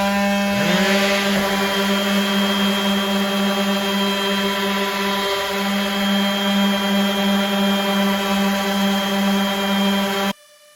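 Electric random orbit sander whirring up and running at a steady high-pitched hum with a buzzing motor tone, then stopping abruptly.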